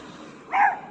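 A dog gives a single short, close bark in an otherwise quiet setting outdoors during a walk.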